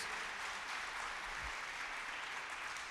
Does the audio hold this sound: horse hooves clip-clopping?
no